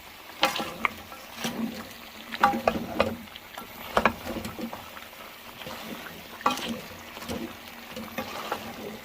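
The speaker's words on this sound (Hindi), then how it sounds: "ऐड करने के बाद मैं इसको अच्छी तरह मिक्स कर दूँगी।" A spoon scrapes and knocks against a pan while spices, garam masala and salt are stirred into mutton karahi, giving irregular clinks over a faint sizzle.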